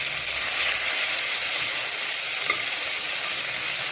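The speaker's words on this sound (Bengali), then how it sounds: "দেখো আলুটা ভাজা হয়ে গেছে, এখন আমি এর ভিতরে কাঁচা লঙ্কা আর টমেটো দিয়ে দেবো।" Fried potatoes with green chilli and tomato sizzle loudly in hot oil, a dense, continuous frying hiss with faint stirring beneath it.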